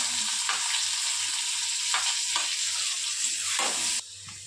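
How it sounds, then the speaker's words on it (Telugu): Onions fry in a pan with a loud, close, continuous sizzle, broken by several scraping strokes of a spoon, before the hiss drops off sharply near the end. "ఇప్పుడు మనం దీంట్లో ఆనియన్ వేసుకొని ఫ్రై చేసుకుందాం."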